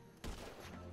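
Burst of gunfire in GTA 5 with Family Guy character and animatronic mods, a sudden rapid volley that starts abruptly and rings on with a dense rattling tail, fairly quiet overall, no talking.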